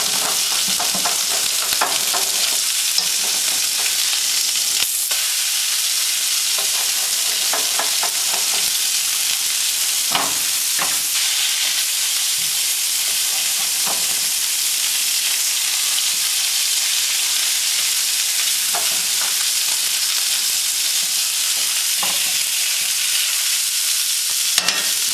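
Sockeye salmon frying skin-side in a pan and being flipped, a constant bright sizzle with scattered clicks and scrapes from the turning, no talk.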